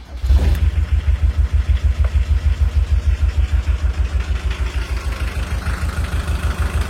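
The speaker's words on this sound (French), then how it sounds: "ça fait un bon bruit de mazout" A diesel engine in a Volkswagen T3 Westfalia California camper cranks briefly, catches and settles into a loud, steady, rhythmic idle close by, with no voices heard.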